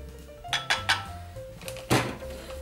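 Sourdough starter mixture being stirred in a bowl, a few distinct clinks and scrapes of the utensil against the bowl in quick irregular bursts, close and fairly quiet with no talking.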